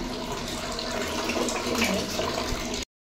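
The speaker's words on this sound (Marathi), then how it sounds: "पाणी नेहमीसाठी गरम काढले, गरम बादली भरली" Hot water pours steadily into a bucket, a continuous rushing splash that runs without pause until it cuts off abruptly.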